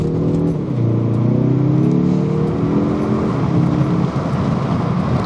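A Mazda 3 Turbo with automatic transmission in sport mode accelerates hard, the engine note climbing steadily through rising gears in a loud, continuous in-cabin drone with a brief shift dip near the end.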